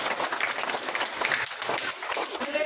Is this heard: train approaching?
no